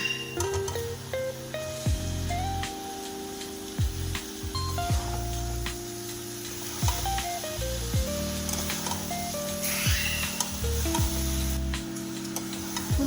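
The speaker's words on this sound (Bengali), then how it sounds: "এই সময় আমি ভেজে রাখা ফুলকপি আর আলুগুলো এর মধ্যে দিয়ে দিচ্ছি" Fried cauliflower and potato pieces sizzling in spice paste in a pan, a steady close hiss with occasional stirring scrapes, no talking.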